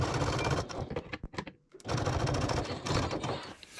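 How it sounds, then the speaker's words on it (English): Sewing machine top stitching along the raw edge of a slip pocket trim on a backpack, a close rapid mechanical chatter in two bursts separated by a brief pause. "we're going to go to the sewing machine, and we're going to top stitch alongside the raw edge of the slip pocket trim"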